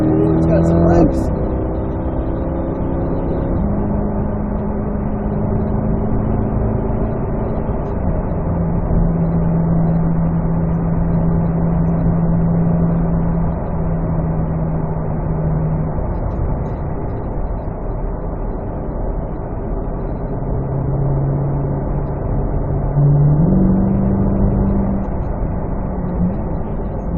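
A 2024 Corvette E-Ray engine drones steadily through shifts on a race track, heard from inside the car, with someone talking over the sustained engine note.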